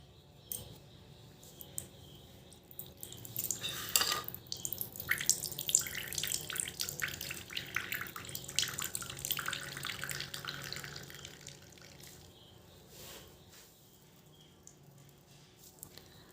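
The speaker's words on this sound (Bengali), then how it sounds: "এবার আমি একটা বাটি আর একটা পাতলা কাপড় নিয়েছি, এর মধ্যে আলুটা দিয়ে দিচ্ছি, দিয়ে চিপে কিন্তু রসটা আমি বার করে নেব" Potato juice is squeezed through a thin cloth into a bowl, giving a soft trickling, dripping water sound that swells for several seconds in the middle and then tapers off, close and alone without talk.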